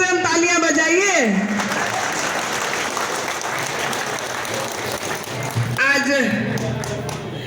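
A crowd claps loudly at a BJP welcome event for a mayor and party councillors at a metropolitan party office. Sustained applause fills the middle, with someone speaking before and after it.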